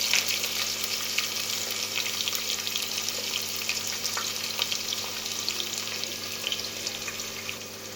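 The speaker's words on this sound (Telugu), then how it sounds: "ఇప్పుడైతే ఎర్రగడ్డ వేస్తున్నాను." Onions fry in oil with curry leaves and spices in a pan, a steady, moderately quiet crackling sizzle with small pops throughout and no talking.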